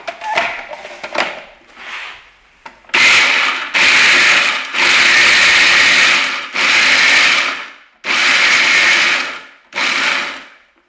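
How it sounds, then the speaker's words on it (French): Several loud bursts of a blender coarsely chopping raw ingredients for a brownie, short pulses at first and then longer whirring runs separated by brief pauses, close and dominating the scene. "Et on va les broyer grossièrement pour avoir quelques morceaux en bouche pour le brownie."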